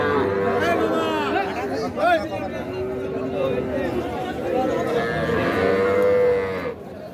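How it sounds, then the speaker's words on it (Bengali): A Sahiwal calf moos repeatedly at a busy cattle market, its drawn-out calls rising over steady crowd chatter and bargaining voices close by. "শাহিওয়াল বাছুর দেখছি যে দেখা দেখি চলছে"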